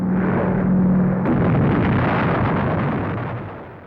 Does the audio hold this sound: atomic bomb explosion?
yes